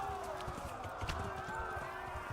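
Horse hooves clip-clopping in the medieval video game Kingdom Come: Deliverance, a quiet rapid patter of hoofbeats with a faint whinny, under game music and a voice.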